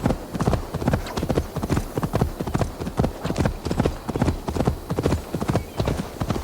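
A unicorn mount gallops in the Assassin's Creed Valhalla video game, its hooves pounding in a steady, fast clip-clop rhythm that stays loud and close throughout, with no voices over it.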